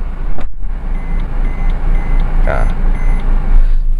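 A Suzuki Ertiga keyless alarm beeps with the key outside the cabin, a series of short, evenly spaced high tones running over steady car-interior noise, with a brief spoken word early on.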